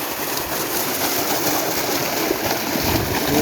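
Water gushes steadily from the outlet pipe of a solar-powered pump, a loud, continuous rushing and splashing close by with no talk.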